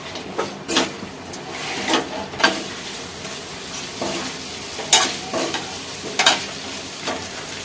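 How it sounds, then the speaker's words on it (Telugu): Boiled chicken sizzles in a hot pan while a utensil scrapes and stirs in repeated strokes, close and fairly loud. "సో ఉడికించిన చికెన్ని వేస్తున్నాను అనమాట"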